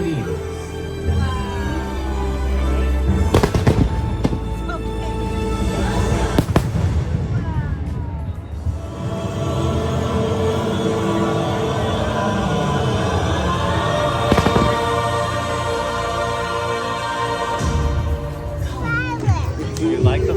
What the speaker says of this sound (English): Do you like the fireworks? I like the fireworks too.